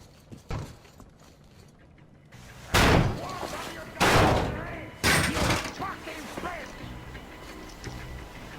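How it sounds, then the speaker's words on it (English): A door is forced open in the video game Metro Exodus with three loud, heavy slamming impacts about a second apart, each ringing briefly, over a low background rumble. "The door's giving."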